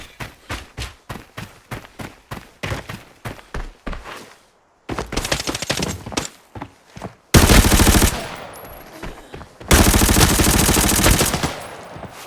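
Gunfire in the video game Arena Breakout: a rapid string of sharp single shots, a brief pause, then louder sustained automatic bursts, close and loud with no talk.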